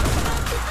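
A gunshot striking a bomb in a multiplayer video game bursts out as a loud, dense crash of gunfire and explosion filling the whole short moment, with no pause.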